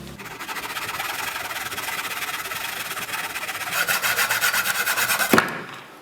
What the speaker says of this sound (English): I'm going to cut down just like this using a hacksaw